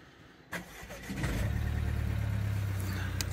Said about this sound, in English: Let's see what cold start is like.